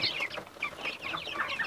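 Several free-range native chickens cluck close by in quick, overlapping bursts of chatter, fairly quiet and with no voices.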